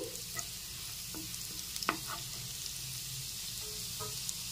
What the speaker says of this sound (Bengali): এখন একটু নেড়েচেড়ে ফ্রাই করে নিচ্ছি। এখন খুব ভালো করে গ্রেট করা রসুনটাকে ফ্রাই করে নিয়েছি।